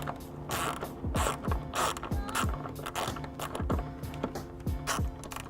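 A 10mm ratchet loosens the nut holding a BMW X1 tail light, a steady run of quick, close ratcheting clicks in repeated strokes with short pauses.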